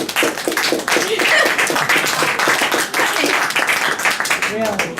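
An audience at an award ceremony claps, dense continuous applause with whoops and voices mixed in throughout.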